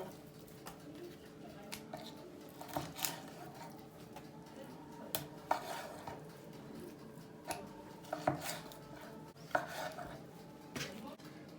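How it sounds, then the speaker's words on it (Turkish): A knife chops raw chicken at the joints on a cutting board, sharp irregular thwacks spaced a second or so apart, close and fairly quiet. "Şöyle tavuğun en değerli yerinde doğrayalım"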